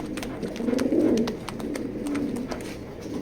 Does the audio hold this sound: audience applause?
no